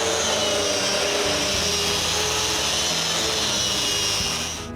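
Wooden board edges being chamfered with 220-grit sandpaper, heard as a loud, steady abrasive rushing and rubbing that continues unbroken for several seconds before easing off slightly at the end, with no talking.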